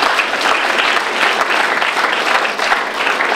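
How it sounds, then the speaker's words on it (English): Applause for the judges at a dikir barat performance event, a dense, steady burst of crowd clapping filling the room loudly without a break. "Ladies and gentlemen, please give a round of applause for Madam Norizan binti Muhammad Khairi"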